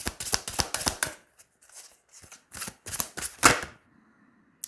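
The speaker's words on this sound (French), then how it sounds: "On va tirer 3 cartes." Tarot cards being shuffled and drawn for a reading, heard as a close run of quick crisp riffling snaps, then a pause and further scattered card flicks and slaps, soft and near.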